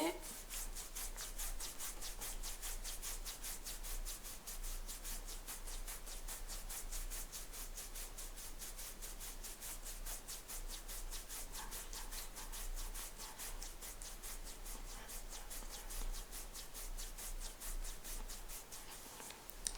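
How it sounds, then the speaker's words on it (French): Hands rubbing along the sides of the nose during a qi gong exercise, a quiet, steady, rapid back-and-forth rubbing texture continuing evenly from start to finish, faint and close. "avec le bord interne, le tranchant des mains, on va venir frotter de chaque côté des ailes du nez"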